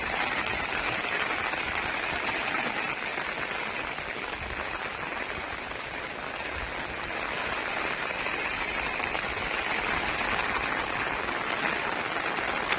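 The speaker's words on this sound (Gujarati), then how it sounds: "વરસાદ ખૂબ શરૂ થયો અત્યારે।" Heavy rain pouring outdoors over cotton fields, a dense, steady hiss of drops that continues unbroken and loud throughout, with no talk.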